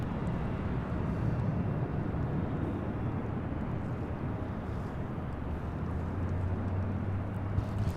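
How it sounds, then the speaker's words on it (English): An ANA Boeing 787 Dreamliner on Flight 106 from Tokyo Haneda lands at LAX, a broad steady roar of jet noise with wind rumble that holds evenly for several seconds, moderately close. "This is the ANA Dreamliner."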